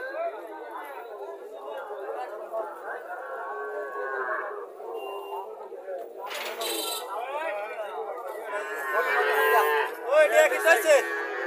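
Calves and cattle at Chauara market in Comilla low and moo amid a busy crowd, with someone talking over the animals and several louder calls bunching up toward the end.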